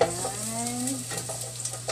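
Garlic sizzles in a hot pan for a short stretch, a steady crackle with light scraping of a utensil stirring, close by over a low background hum.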